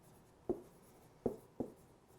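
A black pen taps and scratches on a writing surface in a classroom lecture, three short separate strokes standing out against a quiet, faint background.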